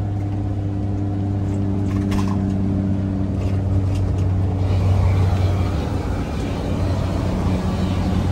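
A car engine runs at a steady idle, a close, droning low hum that holds throughout with no talking.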